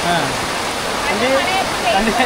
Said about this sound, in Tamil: இப்போ இந்த வாசலுக்குள்ளே பெய்கிற மழை தான் அது